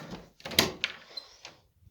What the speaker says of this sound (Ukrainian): відкриваю двері, хай йде тепло на коридор